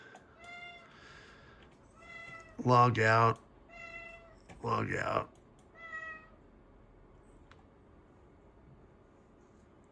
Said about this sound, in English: I must have changed it to the cat meowing sound.